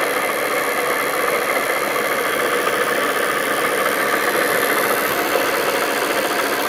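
Rebuilt motor generator running at a steady speed, a continuous even hum and whir with a faint rattling vibration, loud and close, unchanging throughout with no talk.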